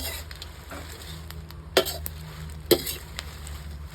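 Dried chilies dry-roast in a pan while being stirred, a soft continuous rustling scrape with two sharp metallic clacks of the utensil against the pan.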